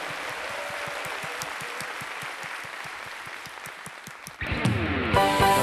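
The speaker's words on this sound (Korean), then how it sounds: "박수 합시다." Rhythmic clapping from a church congregation at a Friday worship service, steady and even, before a swell of loud applause and music bursts in at the end.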